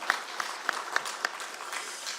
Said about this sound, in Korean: 다시 한번 하나님께 영광의 박수 올려드리겠습니다